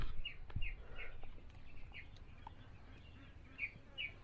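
Black broiler chickens on a poultry farm, birds sick with inclusion body hepatitis, give soft, faint chirps and peeps repeating irregularly over a low background rumble.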